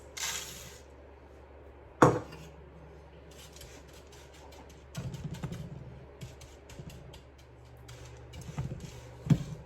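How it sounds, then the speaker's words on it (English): Oats toasting in a pan while being stirred, with scraping and light clinks of a utensil against the pan, a sharp knock near the start and another at the end, close and fairly quiet. "so you just kind of stir these oats around so that they don't burn"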